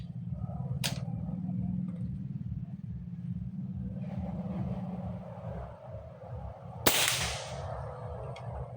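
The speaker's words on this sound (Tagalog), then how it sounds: "Firing second shot." Nimrod Shorty airgun fired once, a sharp sudden crack that stands out above a low background rumble, with a faint click earlier and a person talking quietly.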